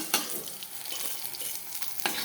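Eggplant fries in oil in a pan, a close steady sizzle broken by a few sharp stirring scrapes.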